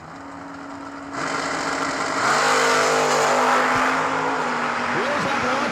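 A Chevy II and a Malibu launch off the line at a drag race, engines rising into a loud roar that swells and holds as the cars pull away, with a commentator talking over it.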